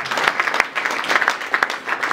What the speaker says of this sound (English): Can we clap for the man of God, please?